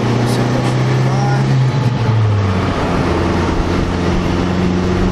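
A 2004 VW Golf 1.8t at full throttle in third gear, a loud, steady engine drone heard from inside the car, with a rising whine and a voice speaking over it.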